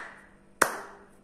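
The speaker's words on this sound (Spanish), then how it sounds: "Con las manos, cuando aplaudimos," A single sharp hand clap rings out close and clear in an otherwise quiet space.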